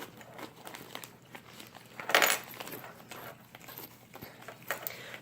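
A zipper pocket on a Jujube BRB diaper bag is pulled open, giving a short crisp rasp in the middle of quiet handling and rustling nearby, with no talking.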